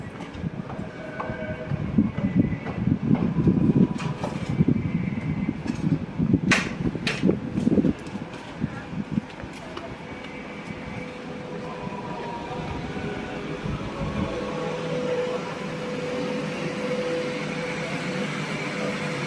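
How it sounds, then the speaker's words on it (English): An air conditioning unit hums steadily in the open air in Split, Croatia, its even drone carrying on at moderate loudness under scattered clatter and bumps in the first half. "And that's actually just the aircon unit,"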